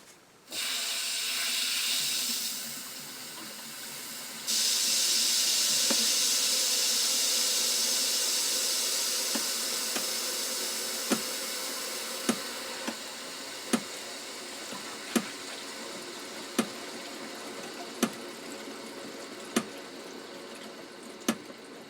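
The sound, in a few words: water flowing into pipes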